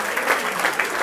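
A brief burst of steady crowd clapping comes from guests honouring a hut host at a 25th anniversary event at a mountain hut in the Rhön. The even, dense applause stays loud for about a second.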